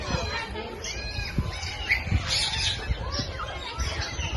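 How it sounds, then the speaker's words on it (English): Birds call repeatedly at Gazipur safari park, with short chirps and squawks scattered over a busy outdoor background, moderately near and mixed with crowd noise. "There's another bird."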